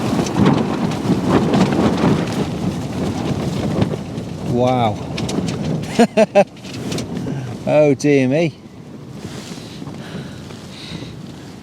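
A loud rushing gust of Storm Otto buffets a Fjallraven Keb Endurance 3 expedition tent, with broadband roaring bursts and flapping over steady rain-like noise, while a person exclaims in surprise.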